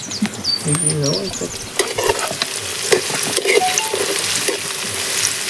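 Chopped onion drops into hot oil in a pan over a village wood-fired clay stove, bursting into loud close sizzling with stirring scrapes and a few clinks, while a voice speaks briefly at the start.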